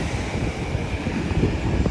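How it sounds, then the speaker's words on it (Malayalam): Strong wind and rain make a steady, dense roar throughout, with small gusty swells in loudness and no voices. "നല്ല മഴയുണ്ട് അതുപോലെ നല്ല കാറ്റുമുണ്ട്"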